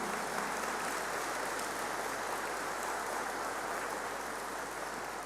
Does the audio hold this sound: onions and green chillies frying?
no